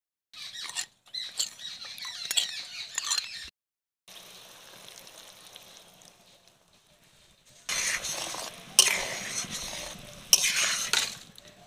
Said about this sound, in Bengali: এটা জলে গুলে ওই ঝোলের মধ্যে দিয়ে দেবো